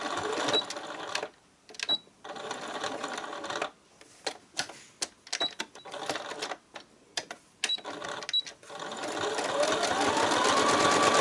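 A sewing machine stitches a fabric seam on a cloth basket, running in rapid mechanical bursts separated by short pauses, then settling into a longer continuous run at the end, close and clear with no voices.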